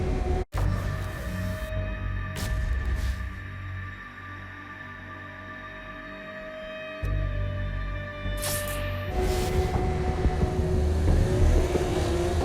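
Car driven in the video game Saints Row: Gat Out of Hell, the engine revving and accelerating steadily, with a sharp crash at the start and heavier surges near the end.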